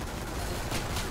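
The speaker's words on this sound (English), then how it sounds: "I'm using this alien gun to slow them down." An alien gun fired in the video game Killing Floor, a brief burst of dense crackling shots, loud and close, with no speech.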